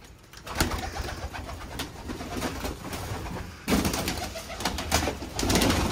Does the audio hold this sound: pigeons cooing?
yes